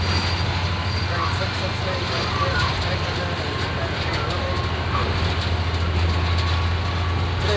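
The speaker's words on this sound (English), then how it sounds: "We're on board Long Island train 660, aboard FL9 diesel electric number 301." A Long Island Rail Road FL9 diesel-electric locomotive, number 301, hauls a passenger train in 1995, with a steady low engine drone and rumbling rail noise heard continuously from inside the cab.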